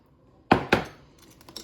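Two sharp metallic clinks from a spoon knocking against a pot while white wine is stirred into a fish stew, followed by a few softer taps, close and brief.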